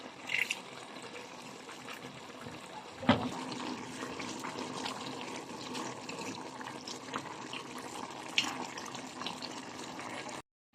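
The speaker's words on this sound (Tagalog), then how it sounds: "ngayon po, lalagyan natin siya ng gata." Pure coconut milk pours steadily into a pan for cassava suman, making a soft, continuous liquid trickle with a couple of sharper splashes and bumps, ending abruptly.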